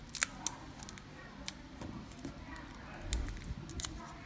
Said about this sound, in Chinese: 这儿是粘的绝缘胶布，我们把它撕开